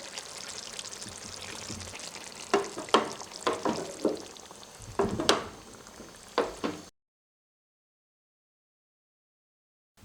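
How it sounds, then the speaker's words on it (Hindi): Water splashes into a simmering pan of meatball curry with bursts of bubbling and stirring noises, then the sound cuts to silence. "अब साइड से मैं इसमें 1 कप पानी ऐड करूँगी ताकि शोरबा हमारा थोड़ा पतला हो जाए।"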